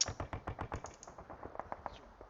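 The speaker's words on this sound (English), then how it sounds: "The sound effects are awesome. We'll go off the artillery for a minute." Rapid, evenly spaced bursts of gunfire and artillery effects in the wargame Panzer Campaigns, a dense rattle of about a dozen sharp reports fading slightly toward the end, heard alone and fairly quiet.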